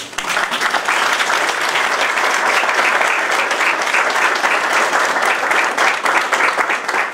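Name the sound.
audience applauding a guest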